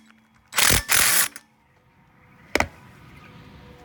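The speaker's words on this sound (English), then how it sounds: "you take your T30 bit and just kind of tighten those down a little bit" Two sharp ratcheting bursts from a driver turning a T30 star bit into fasteners on a desk frame, followed by a lone click, close and loud in a quiet room.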